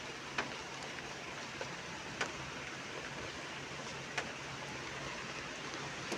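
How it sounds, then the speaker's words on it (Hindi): Heavy rain falls on a vlog trip to Vaishno Devi as a steady, even hiss, with a few sharp drips or taps standing out at irregular moments, with no voices. "बारिश हो रही है, मतलब अच्छी खासी।"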